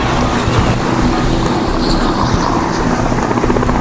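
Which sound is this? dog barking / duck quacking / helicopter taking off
helicopter taking off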